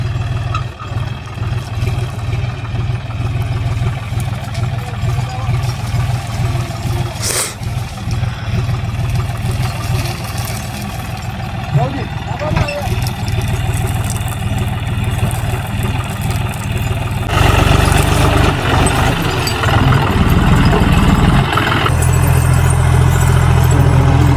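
A heavy loaded tractor engine idles and chugs steadily nearby on a sugarcane farm, growing louder and rougher toward the end as it revs.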